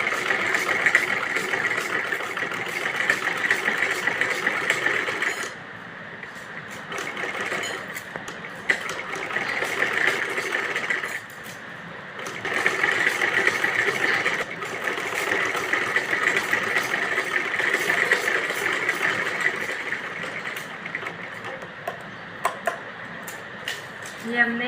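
An electric sewing machine stitches a kachli blouse in steady whirring runs, broken by short pauses, close and loud, with a voice talking over it at times.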